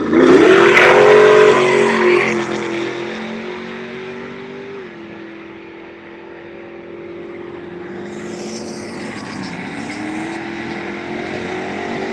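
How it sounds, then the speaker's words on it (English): A street car launches down an eighth-mile drag strip, its engine roaring loud at the start, then the note falls away into the distance and rises again as it revs. "We always love to watch street cars beat up on race cars"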